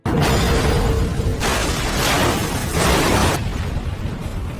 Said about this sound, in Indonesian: menyebabkan kendaraan menjadi tidak stabil hingga akhirnya mengalami kecelakaan dan meledak